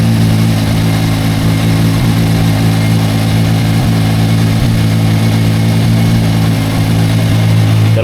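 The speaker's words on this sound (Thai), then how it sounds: "ตอนนี้วอร์มเครื่องอยู่ที่ประมาณพัน เจ็ด พันเจ็ดรอบพันเจ็ดร้อยรอบนะ" A Kawasaki Versys 1000 motorcycle engine warming up at a steady idle around 1700 rpm, loud and close, with an even low hum and constant mechanical drone and no talking.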